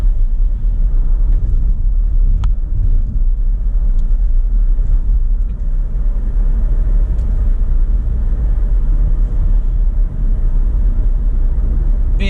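Steady low rumble of a car driving north on M-125 on a chilly day with a little snow on the road, continuous road and engine noise without voices.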